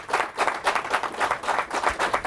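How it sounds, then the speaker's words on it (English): An audience claps to welcome a scholar to the stage at an evening lecture, a lively, rhythmic wash of hands that swells and dips in uneven pulses from a moderately sized crowd. "give him a big round of applause for Brother Runoko Rashidi"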